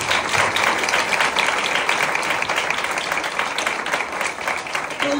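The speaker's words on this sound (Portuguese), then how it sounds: "eu gostaria de ouvir uma salva de palmas para este povo" Church congregation breaks into steady, dense applause, a continuous wash of many hands clapping at close range that fills the whole stretch without pause.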